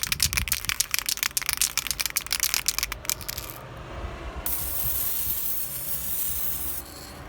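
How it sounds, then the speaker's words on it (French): A spray paint can rattles quickly as it is shaken, the mixing ball clicking in a fast burst, then a short pause before a steady, close hiss of spray that runs to the end. "le bruit trop satisfaisant de la bombe"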